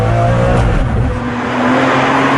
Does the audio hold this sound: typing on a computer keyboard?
no